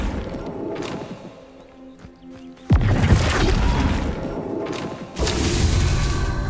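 A Flipendo spell cast in the Hogwarts Legacy video game on hard mode lands as a sudden booming burst with a sharp thud, followed by a rumbling impact and a second heavy hit, loud against a low game backdrop.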